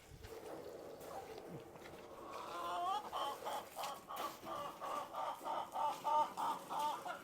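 Roosters clucking and calling nearby in a steady, repeating rhythm, with a rising cluck leading into a run of regular calls and some background rustling.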